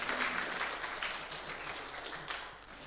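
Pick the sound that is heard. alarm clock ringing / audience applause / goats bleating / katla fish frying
audience applause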